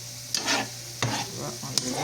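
Plantain slices (alloco) frying in red oil, a soft steady sizzle with a few sharp crackles and light stirring scrapes, close and alone without any voices.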